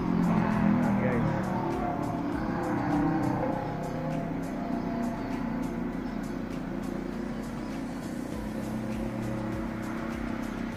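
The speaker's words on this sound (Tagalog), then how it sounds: "Napakadami sasakyan." Continuous road traffic on a newly renovated overpass in Butuan City, a steady broadband rumble of cars and vehicles passing close by, slowly easing in level, with a voice speaking at moments over it.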